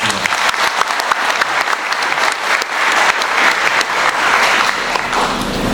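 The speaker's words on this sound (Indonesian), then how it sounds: "Kembali tepuk tangan untuk teman-teman." Audience applause at a corporate gathering, dense and loud, sustained steadily throughout with no pauses.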